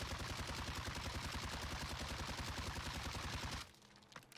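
Sustained automatic gunfire from a gun in the video game Warzone, a dense rapid stream of loud shots for over three seconds that cuts off abruptly, leaving a faint tail.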